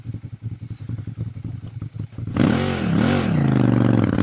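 A Ducati Monster 796 idles with a lumpy, pulsing beat, then the rider opens the throttle and the engine revs up and rises and falls in pitch, loud and close.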